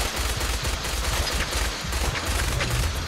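Gunfire in the video game Fallout 4, a dense, continuous roar of rapid shots filling the whole stretch, loud and close with no clear gaps between bursts.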